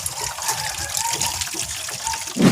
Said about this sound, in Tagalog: continue ko na po muna yung pagpuno ng tubig dito